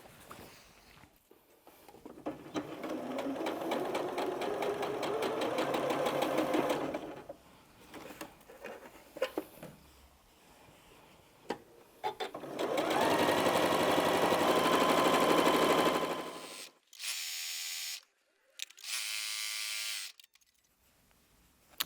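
A sewing machine stitches dark and light quilt strip sets for an Irish Chain quilt in two fast whirring runs, separated by quiet handling, followed by a couple of short buzzing bursts near the end.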